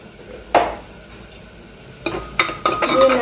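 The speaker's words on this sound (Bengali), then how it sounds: "দিয়ে নাড়িয়ে চাড়িয়ে এবার ঢেকে দেবো, যাতে টমেটো আর পেঁয়াজটা ভালো করে কষা হয়ে যায়।" Tomatoes and onions with salt and turmeric stirred in a pan, with several scraping, clattering strokes of a utensil over a soft sizzle.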